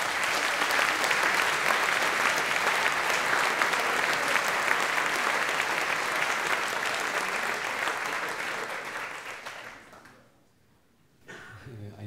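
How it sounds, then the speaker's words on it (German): A science slam crowd at a club gives a speaker a warm welcome, a dense, loud wall of clapping from a packed room that holds steady for about ten seconds, then tapers off and stops, with a voice resuming just after. "Herzlichen Applaus bitte für Simon Hauser."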